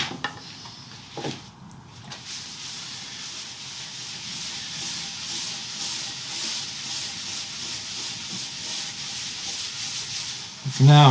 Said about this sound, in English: For now I'm just rubbing down any excess, taking it off